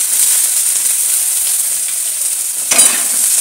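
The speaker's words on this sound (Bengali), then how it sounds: "তেলটা গরম হয়ে গেছে, এরপর আমি এর মধ্যে এইগুলো দিয়ে দেবো।" Whole cloves, cardamom and cinnamon fry in hot oil, making a loud, steady hiss close up with a brief burst of crackle near the end.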